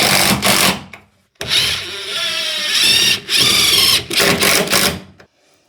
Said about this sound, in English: just so we can screw this edge and that edge of the plasterboard